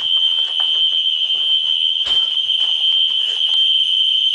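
A fire alarm panel in a garage sounds continuously, a loud steady electronic tone held throughout with faint background noise and brief clatter beneath it.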